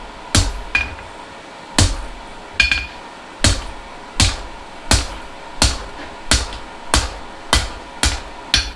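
Steady, evenly spaced hammer blows ring out on hot steel at an anvil as a blacksmith forges bolt jaw tongs, about a dozen sharp metallic strikes, close and loud, with no talking.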